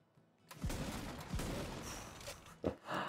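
A few heavy shotgun blasts from the video game Tiny Tina's Wonderlands, each a sharp low boom followed by a decaying tail, fairly loud and close, with a quieter clatter near the end.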